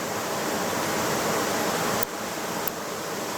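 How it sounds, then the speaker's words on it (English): Eel Weir Brook waterfall pours in a dense, unbroken roar of rushing water, loud and close, with a brief dip and faint click partway through. "We've seen the waterfall."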